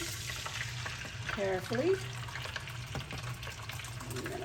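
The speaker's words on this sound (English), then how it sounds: "I'm gonna go ahead and pour my beans, and I'm gonna pour them with the liquid that they have inside" Black beans poured with their cooking liquid into an Instant Pot make a soft, continuous wet splashing and trickle, faint and close, with a voice talking briefly over it.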